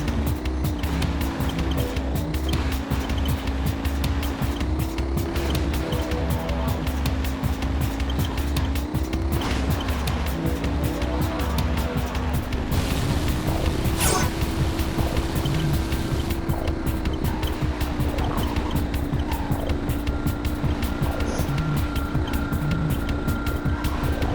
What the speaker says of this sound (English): High-speed racing was what they were going for.